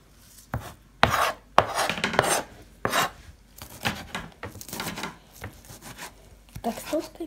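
Close, brisk knife chopping vegetables for shchi on a board, irregular knocks and scrapes with a wooden table creaking underneath.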